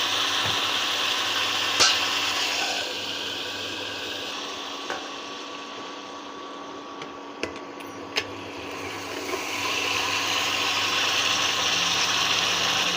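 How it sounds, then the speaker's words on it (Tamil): Chicken gravy masala sautéing in a pan gives a steady soft sizzle and hiss throughout, broken by a few sharp clicks of a spoon against the pan as it is stirred. "ஸோ நல்லா வதங்கி வருது"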